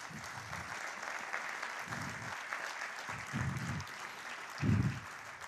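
Audience applause at the inauguration of Mobile Week Alcalá 2022, steady, moderately faint clapping with several low bursts of voices rising over it.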